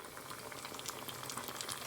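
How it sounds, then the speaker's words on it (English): Busy, crackling bubbling of vegan mozzarella sticks frying in hot oil, a steady close sizzle with scattered pops throughout. "Alright, so that's frying up pretty good."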